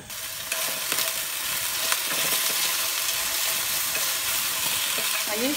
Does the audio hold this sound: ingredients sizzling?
yes